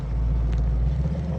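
Ford Mustang V8 engine rumbling steadily at close range as the driver downshifts to accelerate, a deep continuous drone with no talk.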